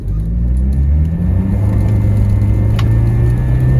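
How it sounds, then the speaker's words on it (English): A 1994 Land Rover Discovery 300Tdi diesel accelerates at full throttle on a snowy, icy road, its engine rumbling loud and close while the pitch climbs steadily. "we'll give it a full acceleration here"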